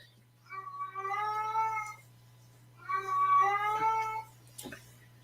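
A cat gives two long, drawn-out meows in a row, loud and close, each sounding pleading and insistent, with a steady low hum underneath.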